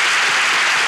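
Audience applause greets the opening of a live relationship-quiz comedy show in Ankara, a brief, dense burst of many hands clapping at steady loudness.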